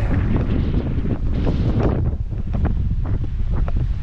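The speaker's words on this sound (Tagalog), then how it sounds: "Napakalakas po ng hangin dito." Strong wind roars and buffets the microphone continuously at a construction site, a loud rumbling gust throughout with no voices.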